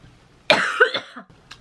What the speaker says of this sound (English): your girl got a cough.